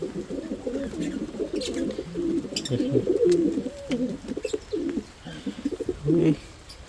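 Several pigeons coo steadily close by, their soft throaty calls overlapping in an uneven rhythm with a few faint chirps.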